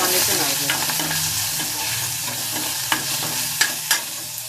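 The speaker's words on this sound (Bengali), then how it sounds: "একটু ভাজা ভাজা করে নেবো" Small fish sizzle loudly in oil in a wok while being stirred. A constant frying hiss carries a few sharp scrapes and clacks of the utensil toward the end; close, with no talking.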